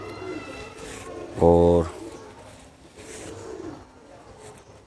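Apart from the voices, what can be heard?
pigeon cooing while handled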